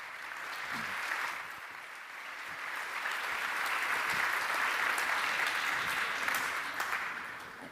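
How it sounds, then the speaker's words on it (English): An audience at a lecture in Bergamo claps together in sustained applause, a dense, even patter of many hands that swells slightly and holds. "So a round of applause for Professor Loeb."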